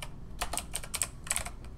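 Quick bursts of keystrokes on a computer keyboard as code is typed into Roblox Studio, a close, crisp run of clicks with short pauses between flurries.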